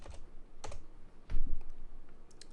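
Keys on a computer keyboard clatter close by in short irregular bursts of taps, with a louder cluster partway through, and no voices.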